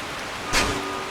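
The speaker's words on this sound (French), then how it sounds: "La pluie qui tombe." Rain falls in the Mario fan game Mario Funhouse Deluxe, a soft steady hiss with a brief brighter splash or crackle burst midway, fairly quiet overall.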